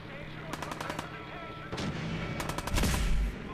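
Gunshots in the video game Fallout 4: a quick rapid string of sharp close shots, a pause, then another burst of shots with a deeper thump, all under a droning game backdrop.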